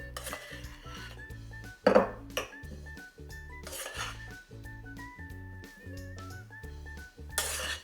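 Dishes and cutlery clink softly while lotus root kinpira is plated, several scattered chinks and scrapes of utensil on dish over a quiet background, one sharper knock near the middle.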